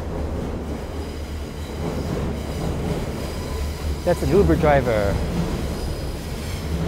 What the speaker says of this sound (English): That's the train tracks right above this whole complex here.